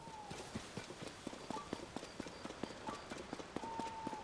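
Horse hooves clip-clopping at a gallop in Legend of Zelda: Tears of the Kingdom, a steady rapid rhythm of hoofbeats running throughout, with brief whinny-like tones over it and no talk.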